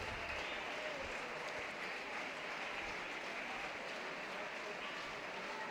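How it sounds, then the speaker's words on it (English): Football fans at a Dundee first-division match applaud a substituted player, a steady wash of distant stadium clapping that stays even and fairly faint throughout, with a murmur of crowd underneath. "And the fans applauding the Dundee hitman."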